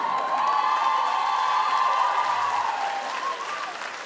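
A comedy-show audience applauds, dense sustained clapping filling the room with some cheering mixed in, slowly fading toward the end.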